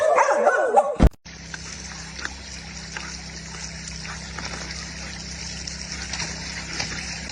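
A dog gives a loud, close bark in the first second, followed by a steady trickle of running water that continues to the end.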